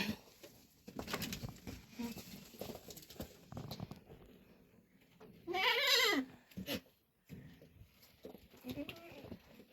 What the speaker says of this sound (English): So guys, these are our goats,